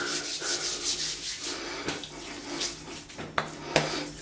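Shaving cream is rubbed into the skin of the arms by hand, giving soft, continuous swishing and slick rubbing strokes, fairly quiet and close, with a few sharper skin-contact smacks near the end.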